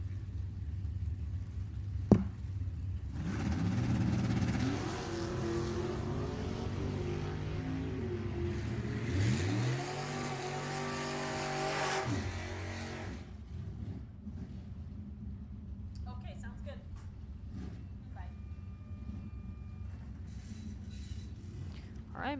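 A 1955 Chevrolet Bel Air and a 1965 Ford Mustang roar down the drag strip at Sacramento Raceway, with a loud sustained engine blast rising and falling through gear changes for about ten seconds before fading into distant crowd and track noise.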